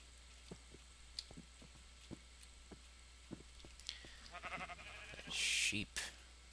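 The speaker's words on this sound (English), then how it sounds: "Keep hearing the sheep walking around." Minecraft sheep give a few short bleats in the game world, spaced apart over quiet background clicks and footsteps, followed by a brief louder burst near the end.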